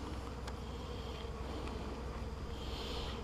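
A soft, steady hum of many honeybees buzzing together in a newly installed hive, low and continuous, with no voices and only faint changes in intensity.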